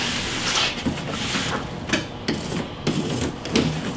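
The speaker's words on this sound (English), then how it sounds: "Imperfections in the panel can be cleaned up with the Surform shaver" A Surform shaver rasps repeatedly across a storm stopper panel, making loud, close, rhythmic scraping strokes with short pauses between them.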